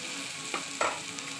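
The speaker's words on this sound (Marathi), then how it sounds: "छोले मसाला सुहानाचा मी त्याच्यामध्ये टाकत आहे, म्हणजे फोडणी छान होते" Chole masala hits hot oil for tempering, producing a continuous close sizzling hiss punctuated by two short, sharper bursts of spattering.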